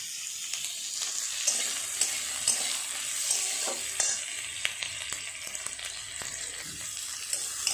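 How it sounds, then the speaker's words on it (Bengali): Vegetables and soybeans fry in a pan for soya chilli, giving a continuous close hissing sizzle with occasional faint clicks of stirring. The sound stays steady and moderately quiet, with no voices. "সব সবজিগুলো হালকা করে ভাজা হয়ে গেছে"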